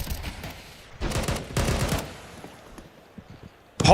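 AWP sniper rifle fire in a Counter-Strike match at a professional tournament: a few sharp bursts of gunfire over game ambience, followed by one loud shot at the end, no talk.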